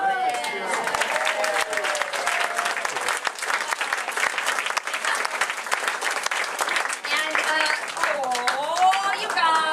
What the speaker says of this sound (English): How about a round of applause for our Stop it.